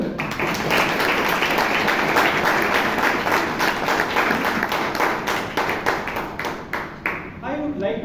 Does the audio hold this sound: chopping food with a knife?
no